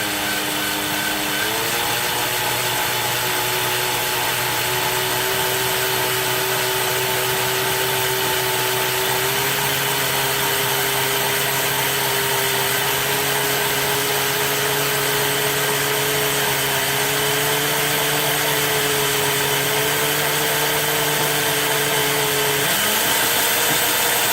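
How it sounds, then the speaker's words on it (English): A power drill hums steadily for a long stretch, drilling slowly into a customized Ultrasabers Dark Apprentice V4 lightsaber hilt, its motor pitch low and even, shifting slightly a couple of times before stopping. "I'm just going to drill it nice and slow."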